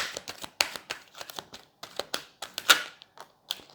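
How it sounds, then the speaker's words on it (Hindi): Tarot cards are shuffled and handled up close while an advice card is drawn. Quick papery flicks and soft snaps come in irregular bursts with short pauses between them. "एक एडवाइस कार्ड ले लेते हैं, give me one advice card for Scorpios love life."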